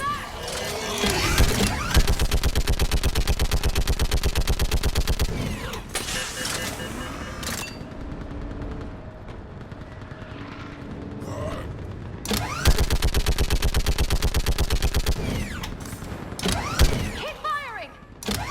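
Rapid automatic weapon fire in Mass Effect Legendary Edition during a firefight on a bridge, loud sustained bursts of a few seconds each, separated by a quieter stretch with mechanical clatter and game voices.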